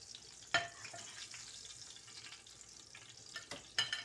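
Chapli kebabs being served from a frying pan give a faint, low sizzle broken by a few sharp clinks and scrapes of utensil against the pan, quiet and close, with no talking.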